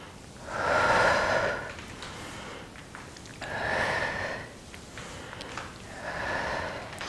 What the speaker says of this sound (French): Inspire et expire. Inspire, expire.